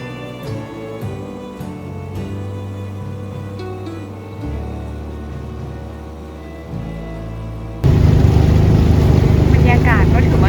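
A boat motor drones steadily on a river cruise near Mueang Feuang in Laos, its pitch shifting a few times before turning louder and rougher with rushing water toward the end.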